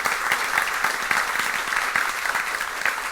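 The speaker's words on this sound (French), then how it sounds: "demander vraiment tout le public là de manière unanime pour nous applaudir très fort" Dense, steady applause from a large crowd at a high school competition match in Haiti, many hands clapping continuously at an even level throughout.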